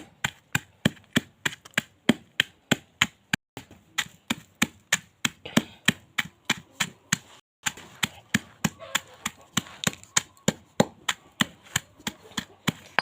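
Charcoal is pounded in a stone mortar with sharp, regular knocks, roughly three to four per second, close and crisp, with a brief pause midway before the steady beating resumes.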